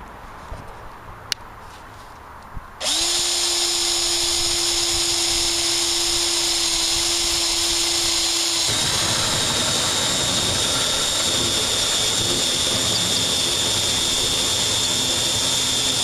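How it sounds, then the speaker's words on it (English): After a quiet start, a power drill boring into steel whirs up to a steady high whine and keeps grinding loudly without pause as the pitch shifts. "So it's going to take quite a while to drill to it."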